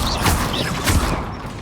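An Accio summoning spell in Hogwarts Legacy flares out as a few sharp magical whooshes and thumps in quick succession, loud and close, with no talking.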